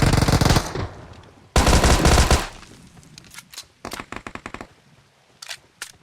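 Gunfire in the PUBG Mobile game: two loud rapid automatic bursts, followed by scattered single shots and short volleys that sound farther off and quieter.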